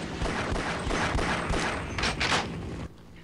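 Rapid bursts of gunfire from the first-person shooter Half-Life: Decay, a dense fusillade of repeated shots at close range that cuts off abruptly near the end.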